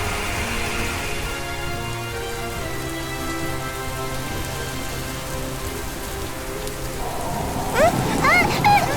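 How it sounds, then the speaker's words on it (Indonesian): Sudden heavy rain with thunder in an animated scene, steady dense downpour with low rolling rumbles under sustained musical tones, growing busier toward the end. "Saat masih berjuang, Huntrix menghadapi hujan tiba-tiba."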